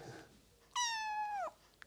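One clear, drawn-out cat meow, close and fairly loud, rising then sliding down before stopping, in an otherwise quiet room.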